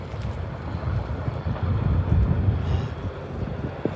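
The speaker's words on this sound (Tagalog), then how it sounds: "Pero malakas ang hangin." Strong wind buffets the microphone in steady gusts near a bridge, with a low rumble of what sounds like open water or a boat beneath it.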